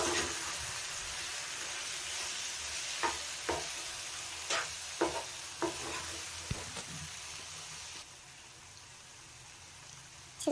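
Spicy chicken fry masala is stirred in a frying pan: a low steady sizzle runs throughout, punctuated by about eight sharp spatula clacks and scrapes against the pan, close and alone with no voices.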